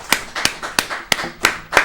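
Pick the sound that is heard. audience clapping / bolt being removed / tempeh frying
audience clapping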